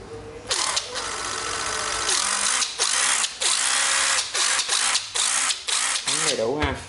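Ryobi cordless screwdriver/drill, a Japanese-market battery model, whirring in a series of short bursts that rev up and cut off repeatedly, loud and close with brief pauses between triggers.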